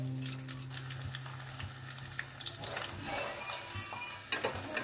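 Egg and masoor lentil fritters fry in oil over a low-to-medium flame, giving a soft, steady bubbling sizzle with scattered pops and a few clinks near the end.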